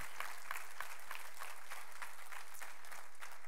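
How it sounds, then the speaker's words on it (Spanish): A church congregation at a general Sunday meeting claps together in praise, a fairly faint, steady patter of many hands with a few sharper individual claps standing out across the room. "Denle un aplauso al Señor."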